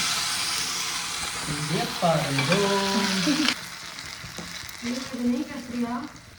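Cashews frying in ghee in a pan on a gas stove give a steady, close sizzle that runs throughout while voices talk over it.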